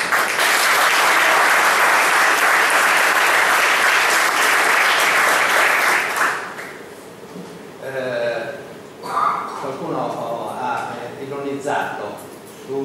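Applause for the municipal staff at an online Sanluri town council meeting, dense and loud for about six seconds before fading, followed by talking.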